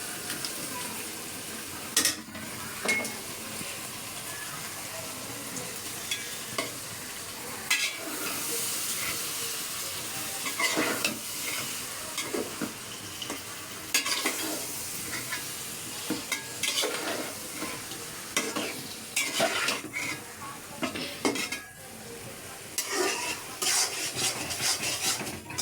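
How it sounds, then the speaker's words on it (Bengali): Beans fried and stirred in a pan, a steady close sizzle and hiss running throughout with repeated scraping strokes of the spatula breaking through at irregular intervals, no talk. "তাই এগুলো আগে কষাবো। সিমগুলো দিয়ে দিলাম।"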